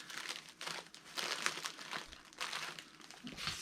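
Bubble wrap crinkles and rustles while a package is packed, soft crackling handled in irregular bursts, close by but quiet.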